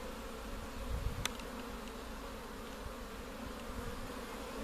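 Honey bees buzz densely inside a crowded hive, a steady close drone with a sharp click about a second in.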